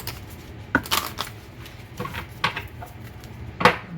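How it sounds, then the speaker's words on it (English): Tarot cards being shuffled by hand, heard as a few brisk riffling bursts spread across a quiet room, fairly close and moderately soft, with no talking. "Let me get a good shuffle."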